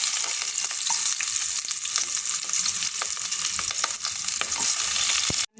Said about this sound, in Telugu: తర్వాత కొన్ని ఆవాలు, కొంచెం జీలకర్ర అయితే వేసుకుందాం. అలాగే ఆనియన్స్, ఒక 2 పచ్చిమిర్చి కట్ చేసి వేసుకుందామండి.